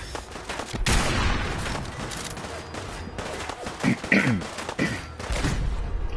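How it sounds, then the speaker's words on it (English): Gunfire and blasts from a Fallout 4 firefight, with a grenade explosion among repeated loud bursts and thuds, close and harsh over several seconds. "We just got absolutely mullered by a grenade."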